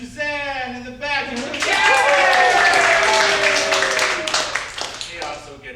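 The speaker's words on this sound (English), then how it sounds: "She also gets the most applause" Live audience at an improv comedy show clapping and cheering, a broad sustained wash of applause mixed with whoops and voices, loud and close throughout.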